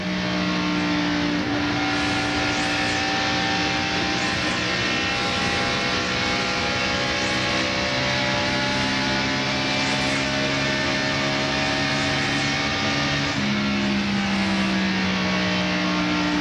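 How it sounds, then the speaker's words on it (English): Stock cars in a 1996 NASCAR Winston Cup race at Atlanta Motor Speedway: a continuous loud, droning engine roar with steady tonal pitch, sustained throughout with slight shifts as cars pass. "here comes Jeff Gordon trying to march his way back to the front as he goes by Loy Allen"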